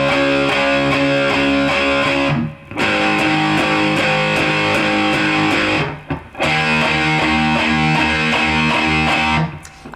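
A distorted electric guitar plays a loud, chugging power-chord riff from a rock song, with short gaps between phrases and no voices.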